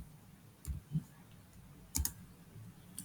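Quiet, close computer keyboard typing on a Windows machine: a few separate key clicks, with a tight double tap near the middle and a last light press at the end, over faint room hiss.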